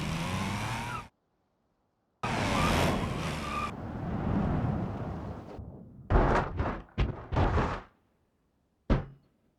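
Two soapbox-style cars, one of them motor-powered, finishing a run: loud bursts of rolling rumble and roar separated by silent gaps, then a cluster of knocking thuds and one last short clunk.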